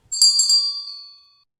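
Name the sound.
bell notification sound effect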